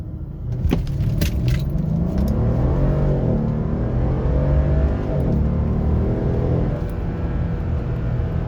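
A 2012 Mercedes SL500 with a 4.7-litre biturbo V8 and rear-wheel drive pulls hard from inside the cabin, a loud, steady engine roar rising in pitch through the gears with a brief jingle of keys at the start.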